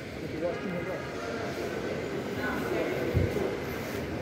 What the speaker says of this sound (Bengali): তো আমরা উঠে গেলাম মেট্রো রেলে